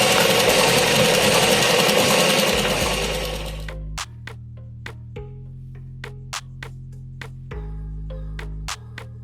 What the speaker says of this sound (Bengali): চাপ সেলাইটা দিয়ে নেব।